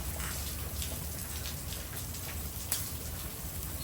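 Steady rain falls during a storm at an outdoor barbecue cooking chicken legs, a dense continuous hiss of drops on surfaces, close and even throughout, with no talk.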